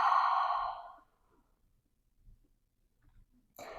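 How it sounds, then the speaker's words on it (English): A deep breath pushed out through the mouth during a yoga practice, one long breathy whoosh that fades over about a second, followed by quiet and a fainter breath at the end. "exhale out through the mouth"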